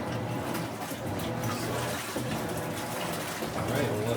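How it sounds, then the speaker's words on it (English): A Whirlpool WTW5000DW top-load washing machine rinses with plenty of water. The water rushes and splashes in a steady, continuous wash at moderate volume through the whole stretch. "Alright, we'll let that rinse, lots of water rinsing."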